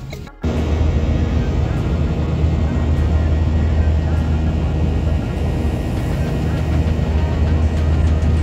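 Inside a passenger airplane in flight, the engines give a loud, steady droning roar with a deep constant hum, unbroken from just after the start to the end.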